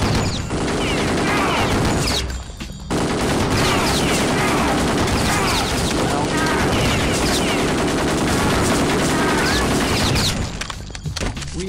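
Gunfire in the video game Kingpin fills the scene: nearly continuous, loud rapid shots and bursts rattle on with a short lull early on, then ease off at the end.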